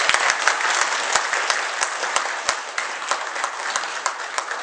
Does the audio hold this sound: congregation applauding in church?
yes